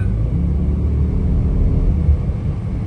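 A 480hp BMW X6 accelerates hard, its deep engine rumble loud and steady with a slight swell toward the end and no talking over it.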